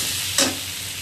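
Potatoes fry in hot oil with green and red chillies, a steady sizzling hiss punctuated by one brief louder burst of spatter as something hits the pan.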